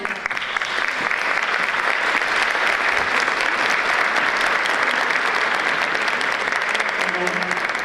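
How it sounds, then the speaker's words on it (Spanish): Steady, dense applause from a congress audience of teaching supervisors, loud and unbroken throughout with no pause. "Renovemos el aplauso"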